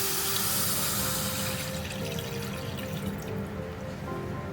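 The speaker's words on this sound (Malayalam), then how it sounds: "നമുക്കിതിലേക്ക് വെള്ളം ഒഴിച്ചു കൊടുക്കാം." Water pours steadily into a pot of ragi vegetable soup being cooked, a continuous close splashing rush that gradually softens.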